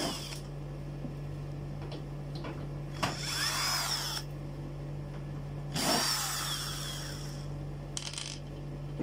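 Side screws being removed from an old Sony Aiwa music system, several short whirring bursts of a powered screwdriver over a steady low hum, close and moderately loud, with no talking.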